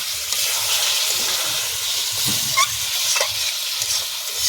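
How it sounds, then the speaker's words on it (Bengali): Spicy Bengali egg and potato curry masala sizzling and frying in a pan, with steady hiss and repeated scrapes of a spatula stirring throughout, close and continuous, no talking. "একটু কষে নেব"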